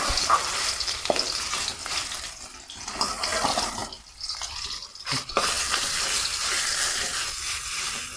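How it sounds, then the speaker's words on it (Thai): Minced pork stir-fries in hot oil in a pan, a loud crackling sizzle broken by scraping stirs and brief dips as the meat is tossed. "เมื่อน้ำมันร้อนแล้วนะคะ เดี๋ยวแค่เลจะ นำหมูสับเนี่ยลงไปผัดให้สุกก่อนนะคะ"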